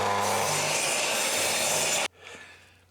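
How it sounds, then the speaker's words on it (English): A saw cuts through pallet board wood, a loud, steady rasping stroke running about two seconds before stopping abruptly, followed by faint workshop noise. "I'm going to cut the pallet board down to 11 inches."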